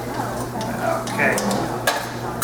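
Asparagus sautéing in hot olive oil in a frying pan with hot spicy seasoning, a soft steady sizzle with light stirring clinks and a faint underlying hum throughout.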